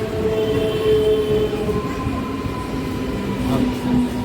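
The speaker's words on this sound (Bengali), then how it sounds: "আমাদের ট্রেন চলে এলো এবার আমরা উঠবো" A Bandel–Howrah local train rolls into a station, loud rumbling wheels and a drawn-out brake squeal close by, with faint crowd murmur around it.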